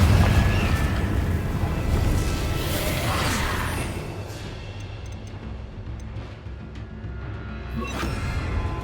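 A Confringo spell blast goes off in a Harry Potter video game, a loud booming explosion that rumbles and fades over several seconds, with a quieter crackle near the end.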